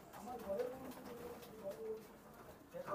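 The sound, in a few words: running and golden pigeons cooing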